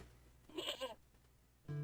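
A goat bleats once, a short wavering cry heard close in a quiet outdoor setting, followed by a brief tonal sound at the end.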